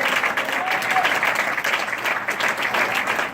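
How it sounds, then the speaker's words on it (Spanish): A church congregation claps loudly and steadily for a few seconds, a dense, even patter of many hands with no pauses. "Denle fuertes esas palmas al Señor."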